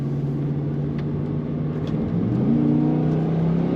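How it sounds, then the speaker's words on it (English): A 2004 Pontiac GTO engine surges on kick down, its close, loud rumble climbing in pitch as the car accelerates, with no one talking. "There's that kick down. Definitely feel the power kicking in."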